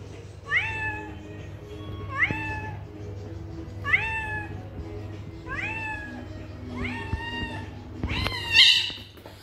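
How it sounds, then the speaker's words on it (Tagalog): A cat on its own gives a series of five loud, drawn-out crying meows at fairly even intervals, followed by a sharper, higher, strained yowl at the very end. "Ikaw yung pusang laging umiyak. The crying cat ka."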